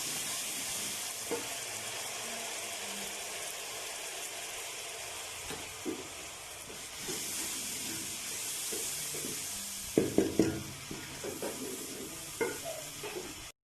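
Ginger-garlic paste fries in a pan of golden onions, a steady close sizzle and hiss with scattered spatula scrapes and stirring knocks, heavier toward the end.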